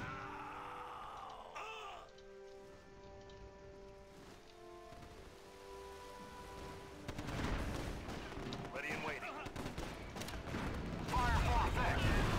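Artillery barrage in Axis & Allies, the 2004 real-time strategy game, during a D-Day Operation Overlord battle: a busy mix of gunfire and booming shells that grows louder and denser toward the end, with a voice speaking over it.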